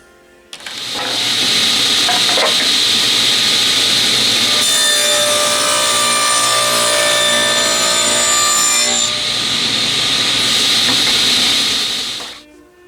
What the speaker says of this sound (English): I'm going to run each piece over the blade in the table saw and cut a little groove around the outside